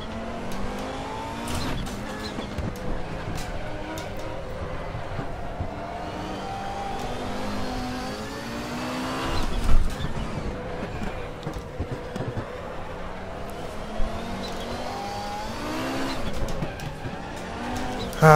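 An Audi 90 IMSA GTO race car laps the Nürburgring in the RaceRoom racing game, engine droning and shifting pitch through gears with brief tire squeals, continuous and close without talk.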